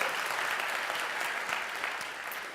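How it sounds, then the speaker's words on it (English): Audience applause at the welcome of an online-streamed candidate information event, a steady wash of many hands clapping throughout, moderately distant and even. "So give them a big round of applause"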